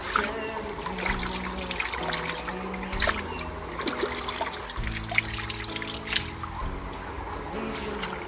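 Stream water flowing steadily near a waterfall, an even close-up trickle and wash running throughout, with faint tonal hums and voices in the background.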